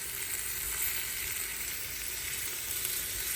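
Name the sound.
onions frying in oil in clay pot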